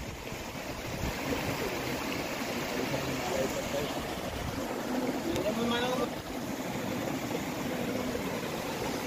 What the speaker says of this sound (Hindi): तो ये छोटे मोटे झरने में आए हम